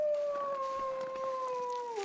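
A wolf in The Long Dark howls in one long, steady, drawn-out tone that slowly sinks in pitch near the end, carrying clearly over faint background ambience.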